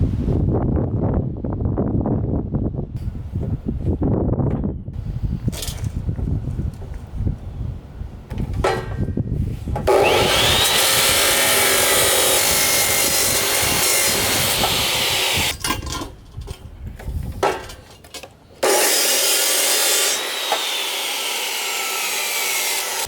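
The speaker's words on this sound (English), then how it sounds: "Forget how much cutting with the chop saw sucks." A chop saw cuts scrap metal for a welding cart build, with a harsh, loud grinding whine in two long bursts broken by quieter clunks and handling noise in the workshop.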